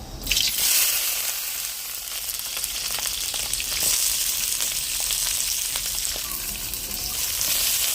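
Green chillies frying in hot oil for a ridge gourd pounded chutney give off a steady, loud sizzle and crackle with scattered pops, continuous through the clip with no talking.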